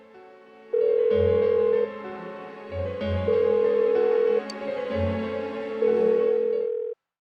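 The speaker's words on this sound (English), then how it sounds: "Why won't she pick up the phone?" In the Persona 4 Golden video game, a telephone rings unanswered: three long, electronic tonal rings separated by short pauses, loud and close, then the sound cuts off abruptly.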